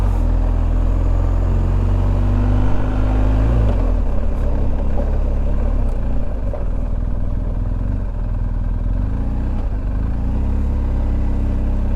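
Motorcycle engine in enduro mode climbing a steep mountain road in the Southern Alps of Japan, a loud steady drone close up with wind rush and slight shifts in pitch as the load changes.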